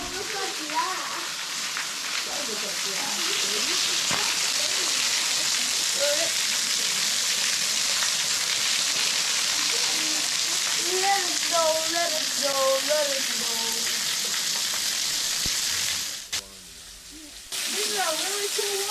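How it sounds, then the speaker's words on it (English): Waterfall at Pine Mountain State Park, Kentucky, a steady broadband rushing roar that persists throughout, with people talking over it and a brief dropout near the end. "This is a really cool waterfall,"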